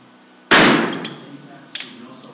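A HILTI powder-actuated nailer fires a red-load shot, driving a 2.5-inch treated-lumber nail with a washer into cured concrete: one sharp, loud metallic bang that rings out, then a few small clinks.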